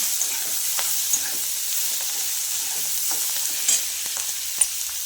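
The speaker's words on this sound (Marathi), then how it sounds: "त्यातच आपण भाजून घेतलेल्या शेंगा टाकायच्या आणि छान असं परतून घ्यायचं." Roasted cowpea pods stir-fried in a hot garlic tempering with coarsely crushed garlic, giving a steady soft sizzle and frying hiss with a few faint stirring scrapes, close and continuous with no talk.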